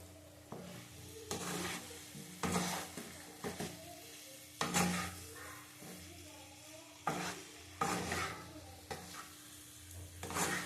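A spice mix with tengra fish, cauliflower and potato sizzles in a pan as it is stirred, bursts of scraping and frying rising and falling in uneven strokes over a low hum, with no talk.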